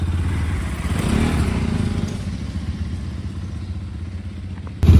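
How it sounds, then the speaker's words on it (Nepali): A motorcycle engine runs steadily as a couple rides off on a bike, its low rumble continuous and fairly close, swelling slightly early on and ending with a louder burst of noise at the very end. "टक्क बुढाबुढी बाइकमा हिँड्यो"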